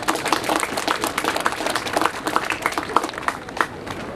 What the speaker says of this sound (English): can we give them one round of applause?